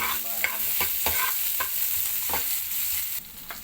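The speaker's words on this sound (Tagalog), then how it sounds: "Mag-gisa na tayo guys. Tayo na natin itong laman." Squid and cabbage sauté in a hot pan, a continuous close sizzle punctuated by repeated spatula scrapes and clacks at a loose rhythm, with no talking.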